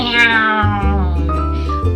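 A person imitates a cat with a drawn-out, wavering meow in a playful singsong voice, delivered close and fairly loud, with a brief break partway through.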